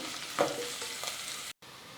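Chopped big onions for prawn biryani frying in hot oil, giving an even crackling sizzle with one brief stir and a sudden short cut near the end, quiet and close.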